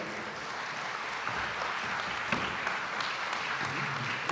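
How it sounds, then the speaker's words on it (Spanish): Sustained audience applause at an inauguration ceremony and conference, steady dense clapping from a large crowd throughout, with no speech over it. "Recibamos con un fuerte aplauso al doctor Uriel García."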